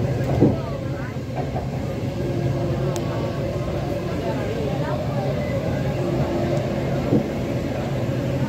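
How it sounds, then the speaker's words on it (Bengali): Kolkata Metro train running past Subhas Sarobar lake as it begins descending underground, a steady, loud rolling rumble with rail clatter that stays constant throughout, with faint voices in the background. "এখান থেকে কিন্তু ট্রেনটা আস্তে আস্তে মাটির তলায় চলে যাবে।"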